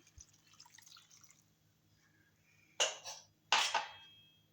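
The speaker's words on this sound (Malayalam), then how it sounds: "വെള്ളം ഒരു ഗ്ലാസ് ഒഴിച്ച് കൊടുക്കാം" After faint kitchen clatter, two short bursts of water splash into a pot of koottu curry, close and fairly loud, each fading quickly.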